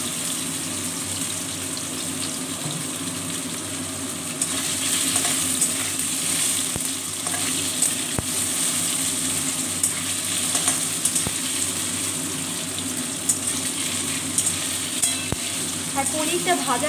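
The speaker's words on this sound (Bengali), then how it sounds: "এইভাবে আমি পুরোটা পনিরই ভেজে তুলে নেব।" Paneer cubes fry in hot oil in a pan, giving a loud, continuous sizzle with occasional stirring clinks throughout.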